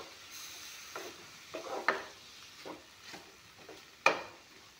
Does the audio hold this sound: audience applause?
no